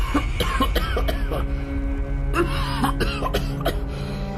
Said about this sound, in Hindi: तभी उसका दम घुटने लगता है और वो जोर जोर से खांसने लगता है